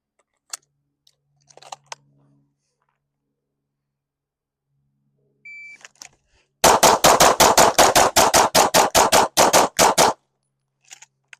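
A rapid string of about twenty gunshots at a designated target drill, loud and close, fired in one fast burst after a few quiet clicks and handling sounds.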